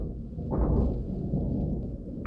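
A low thunder rumble in the video game Genshin Impact, a deep swelling roll that builds after half a second and lingers steadily for about two seconds without speech.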